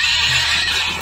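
A horse whinnying loudly and close, a sustained bright neigh over a steady background.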